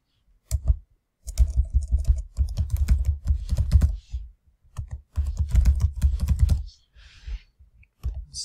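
Password typed on a computer keyboard, bursts of quick clicking keystrokes in several runs separated by short pauses, close and clear with no talking.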